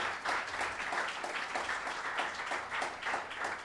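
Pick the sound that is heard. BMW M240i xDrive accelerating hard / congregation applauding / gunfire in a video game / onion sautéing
congregation applauding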